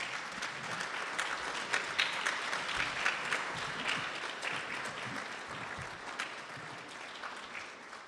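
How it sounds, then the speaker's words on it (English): A gathering claps at a Friday night satsang held as a birthday celebration. The applause is moderately distant, steady and sustained, with no talking over it. "So I think we all should stand up and give him a round of applause, and Marajin too."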